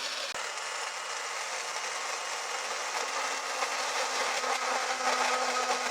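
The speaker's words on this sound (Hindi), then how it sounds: "मिक्सी में कर देंगे।" A mixer grinder whirs steadily at high speed for the whole stretch, a loud continuous blending roar with no pauses.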